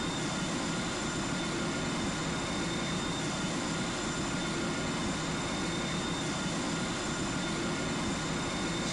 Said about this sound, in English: So we've got engines up and running